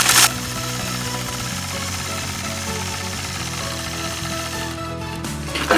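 A quilting machine runs steadily, stitching a straight line across a quilt block guided by a ruler. Its motor hum is loud and continuous, with a constant fast needle buzz from start to finish, close up and with no talking.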